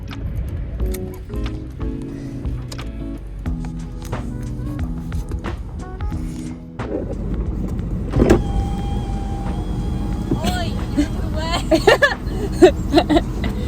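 Inside a mum's car on a cold, bright day, electric windows whir up and down in short motorised runs over a low engine hum, with soft thumps and muffled voices nearby.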